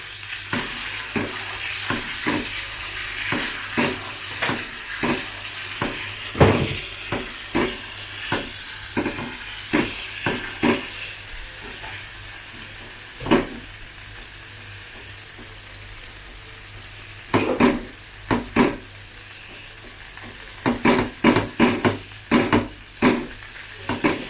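A wagyu rib eye steak seasoned with pepper, MSG and olive oil sizzles in a pan, a constant soft frying hiss broken by sharp intermittent clatters and scrapes, with no talking.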